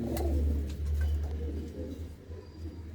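Low, throaty cooing from a group of domestic pigeons kept in a loft, continuous and close, with the birds calling over one another.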